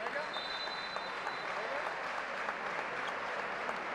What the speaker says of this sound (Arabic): يخرج ابو النصر وسط تحيه من الجماهير من مشجعي مساندي الاهلي والزمالك